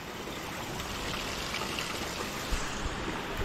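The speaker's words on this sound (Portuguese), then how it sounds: "E tô jogando uma água na bike." Broadband rushing water from the Salto waterfall cascade, with splashing as water is poured over a touring bicycle; steady and loud throughout, no speech.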